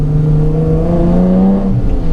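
Engine-swapped BMW E30 under hard acceleration, a loud close engine note with a steady rising drone and clear harmonic tones, continuous for about two seconds with no voices.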